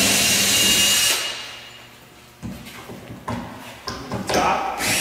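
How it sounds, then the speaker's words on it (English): A hex head power driver backs screws out of the enclosed shipping crate of a pine hunting blind, with a loud whirring burst followed by several close, short clunks and knocks. "you take a hex head, you take the 6 screws out"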